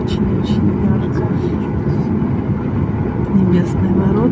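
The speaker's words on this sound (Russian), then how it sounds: "Все, мы пошли на взлет." A passenger airplane taking off from Vancouver airport, heard from inside the cabin as a loud, steady engine roar with low rumble throughout, under occasional talk.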